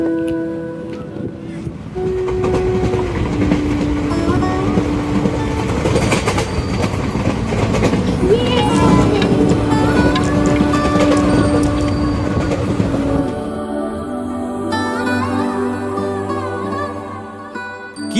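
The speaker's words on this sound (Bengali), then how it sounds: "ট্রেন চলে এসছে।" A passenger train rolls in and passes close by, loud rumbling wheels and rhythmic clatter with a horn blast, as people talk nearby.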